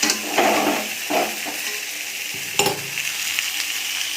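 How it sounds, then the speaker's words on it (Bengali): Potatoes fry lightly in a pan with a bright, steady sizzle, punctuated by occasional clatters and scraping as they are stirred. "আলুটা ভেজে নিতে থাকি, হালকা ভেজে তারপরে মাছটা ভাজবো"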